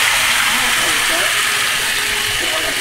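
Meat sizzling in a hot skillet, a loud, steady, close hiss that fills the whole stretch without letting up.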